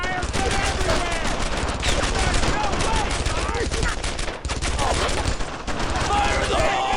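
Dense, sustained MG-42 machine-gun fire mixed with other gunfire in the WWII video game Brothers in Arms: Earned in Blood, during a tank destroyer escort through St Sauveur. Loud, continuous bursts fill the whole stretch with barely a pause.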